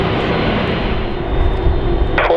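A US Air Force Lockheed C-5M Super Galaxy jet roars steadily and loudly as it takes off at Zurich Airport, a dense continuous engine rumble with no voices.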